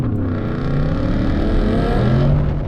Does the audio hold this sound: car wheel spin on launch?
yes